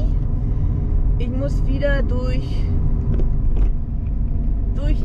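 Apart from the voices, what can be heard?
car driving after leaving the motorway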